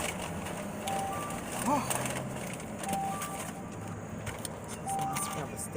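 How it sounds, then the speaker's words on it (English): A parked car with its door open sounds a repeating warning chime, several short evenly spaced dings heard fairly close while a person talks briefly nearby. "I got this car door open. Y'all gotta excuse this little ding ding noise."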